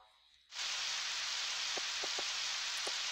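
Rain in the video game Harvest Moon 64, a sudden steady hiss of synthetic downpour that starts after a brief quiet moment, with a few soft, short tonal blips sounding over it.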